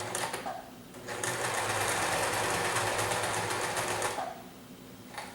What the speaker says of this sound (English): I'm going to make a couple stitches, and then I'm going to reverse stitch so that it's nice and secure.